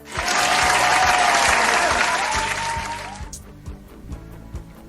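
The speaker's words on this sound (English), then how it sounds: "Please give yourselves a round of applause." A group gives a round of applause, a dense wash of clapping that swells, holds for about three seconds, then cuts off, leaving a few sparse claps behind.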